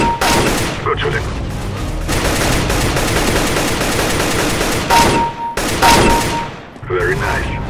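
Rapid bursts of automatic gunfire from a CS:GO match crackle loudly and almost continuously, with brief pauses between volleys, while players talk over the shooting.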